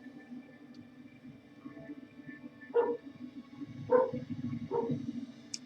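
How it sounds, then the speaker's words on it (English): Pet dogs bark at strays running through a neighborhood: a few separate sharp barks spaced a second or so apart, heard fairly close over a low steady hum. "stray dogs running through the neighborhood, making my dogs bark"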